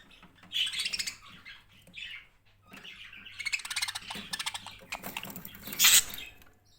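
Budgerigars kept for breeding chirp and twitter nearby in several lively bursts with short pauses, ending in a sharper squawk, with no talking.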